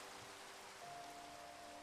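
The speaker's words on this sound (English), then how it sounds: "I am digging this rain though. The rain is really nice." Soft, steady rain patters evenly in a video game, faint and continuous, with a quiet tonal hum running beneath it.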